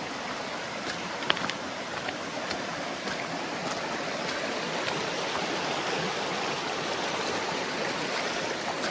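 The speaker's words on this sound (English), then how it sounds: "This one is normally flowing across the creek though, but wow, is it moving." A fast, swollen creek floods across a hiking trail on a long-distance trail thru-hike, making a steady, loud, broadband rush of water that runs unbroken throughout with no talking.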